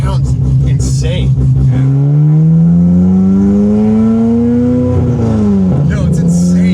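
An LS3 V8 car fitted with a supercar-style exhaust pulls under load with a loud, rising engine drone that climbs steadily, drops briefly at a shift, then climbs again, while people talk over it.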